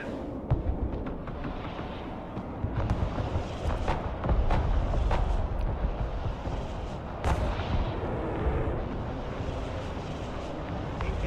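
Artillery bombardment in the war game Broken Arrow: repeated deep booming blasts and crackling gunfire roll over a rumbling battlefield, some impacts sharp and close, others distant, with a faint voice at times.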